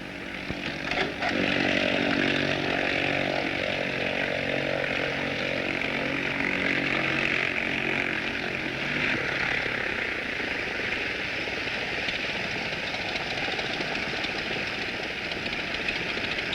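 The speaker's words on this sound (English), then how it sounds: "Hey, Steve, there's some plane taxiing up to our dock." A propeller plane taxis up to a dock over water, its engine a steady loud drone with a buzzing whine that holds unbroken the whole time.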